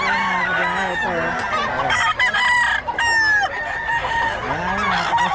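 Chickens and a rooster at a Bocaue market in Pampanga, crowing and clucking loudly and continuously, with many overlapping birds close by.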